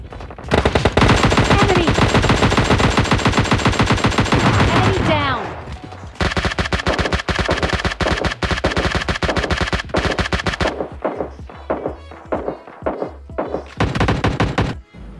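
Rapid automatic gunfire from a PUBG match, a long sustained burst of loud close shots, a brief pause, then more bursts that break into scattered, uneven volleys.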